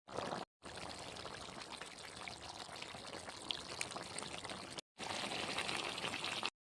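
Leftover gravy pours steadily into a pan of mutton curry, a close, continuous liquid splashing with brief breaks near the start and near the end.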